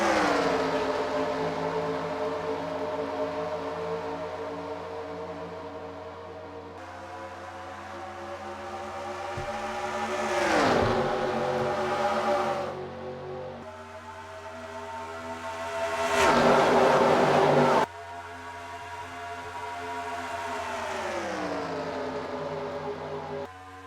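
Race cars roar past in NASCAR Racing 2003 at the green flag, engines whining and rising through the gears and shifting in pitch as they pass, loud and continuous for over twenty seconds.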